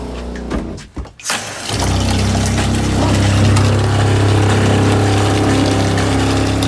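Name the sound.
RV water pump running during winterizing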